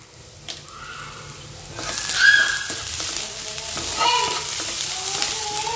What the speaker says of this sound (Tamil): ஆனியனை நல்லா ப்ரௌனிஷாக வதக்கிடலாம்